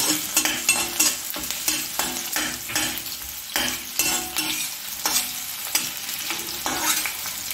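Onions and green chillies frying in hot oil with a steady crackling sizzle, punctuated by repeated scraping stirs of a spatula in the pan, close and fairly loud with no talking.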